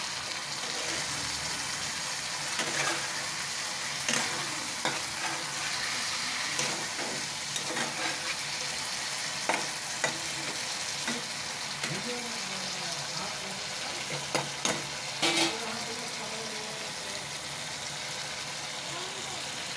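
A dish with coriander leaves stirred and fried in a pan, a continuous sizzle broken by irregular clinks and scrapes of the spoon against the pan, clustering toward the middle and end.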